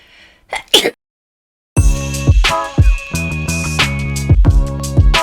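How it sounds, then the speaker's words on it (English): A quick sharp intake and burst, like a sneeze, then a pause before bright layered music starts loudly and continues. "I have to sneeze"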